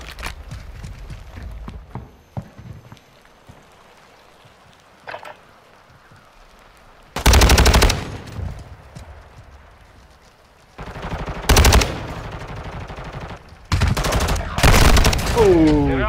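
Bursts of video game gunfire during a capture-the-flag match, loud clustered volleys around the middle and end separated by quieter stretches, with faint game sounds between.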